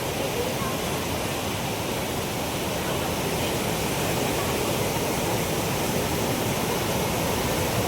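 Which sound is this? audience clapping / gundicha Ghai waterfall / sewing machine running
gundicha Ghai waterfall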